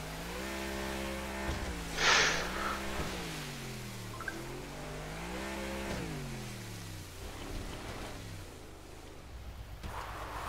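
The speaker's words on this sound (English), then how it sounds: "Too busy hitting sick drifts, bro." A car engine in Grand Theft Auto V drones and revs with rising and falling pitch through a drift, fairly loud and steady with a brief burst of noise early on.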